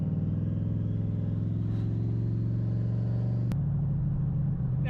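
Ford Mustang SN95 on 20-inch wheels rolling down a rough street, a steady low engine drone and road rumble from inside the cabin with a sharp knock partway through.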